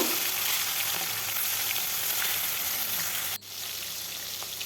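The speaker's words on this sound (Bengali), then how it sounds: "তেলটা ভালোভাবে গরম হলে তারপর মাছগুলো দিয়ে দেব।" Mustard oil sizzles and crackles hotly in a wok on a gas stove, a steady loud frying hiss that dips sharply for a moment before resuming.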